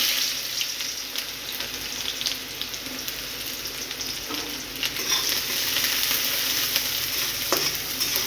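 Onion frying in hot oil in a kadai with mustard seeds and cumin, a loud dense sizzle that holds steady and close throughout, with faint stirring scrapes and no talk.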